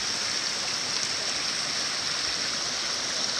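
Small trail drainage stream running strongly after rain, a steady close rushing and gurgling of water that holds constant and loud throughout with no voices.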